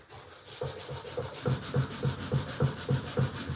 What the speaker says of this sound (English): I'm just using an 80 grit right now to kind of cut through all of the dirt and grime